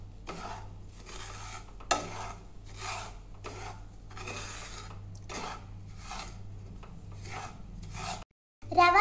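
Rava (semolina) being dry-roasted and stirred in a pan for rava kesari, a rhythmic rasping scrape repeating roughly every second, close and steady, with a brief gap near the end and a louder scrape after it.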